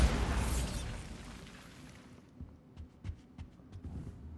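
Bombarda spell explosion in Hogwarts Legacy: a loud burst up front that rumbles and fades over about two seconds, followed by quieter scattered pops and thuds.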